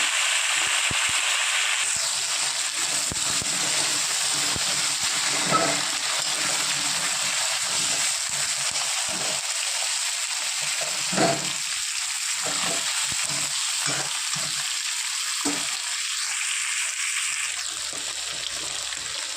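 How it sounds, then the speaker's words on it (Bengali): Potatoes frying in oil in a pan, a steady broadband sizzle running throughout with a few soft knocks and stirring clicks scattered across it, close and fairly loud, no voices. "আলুটা একটু লাল লাল করে ভেজে নেওয়ার পর মশলা দিয়ে কষিয়ে নেব"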